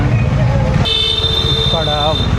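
Vehicle horns honk in busy city traffic during a motorcycle ride, several sustained tones sounding one after another over loud road and engine noise.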